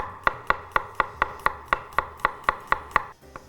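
Knife mincing a garlic clove on a cutting board for braciolette, with about a dozen crisp, evenly spaced chops close up and no talking.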